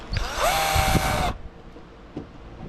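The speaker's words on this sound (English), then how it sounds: "you really just got to let the drill bit do the work and try and limit the damage on the inside of the shell" A power drill whines up and bores into a wooden drum shell, a loud high-pitched spin lasting just over a second before cutting off, followed by quieter handling clicks and knocks.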